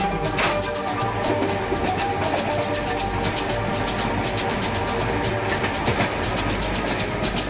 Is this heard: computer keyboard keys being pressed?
no